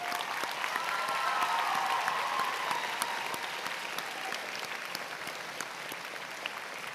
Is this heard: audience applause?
yes